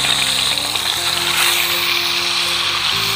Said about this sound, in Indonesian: minyak aku dah panas. Kita masukkan ikan.